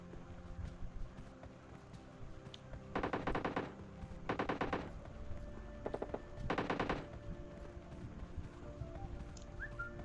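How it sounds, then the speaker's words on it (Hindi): Gunfire in a shooting video game: several rapid automatic bursts of clattering shots, moderately distant, separated by quieter ambient game noise with no speech. "फिर तभी मुझे सुनाई देती है आगे कुछ फायरिंग की आवाज़ें"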